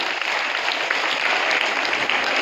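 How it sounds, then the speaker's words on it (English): A college orientation audience gives loud, dense applause for a student, an even roar of clapping filling the whole moment without speech. "Jennifer, round of applause for Jennifer."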